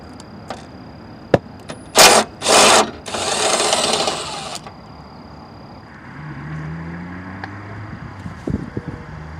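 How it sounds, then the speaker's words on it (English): A 10mm socket loosens the fastener on a bracket inside a Jeep door, with short harsh mechanical bursts followed by a longer grinding whir, then quieter scattered clicks. "I'm using a 10mm socket for removal."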